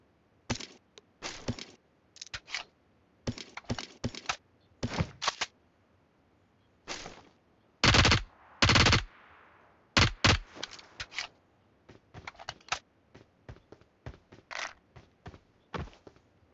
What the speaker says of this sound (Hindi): यहाँ पे हमारी नई गन है जो कि है P90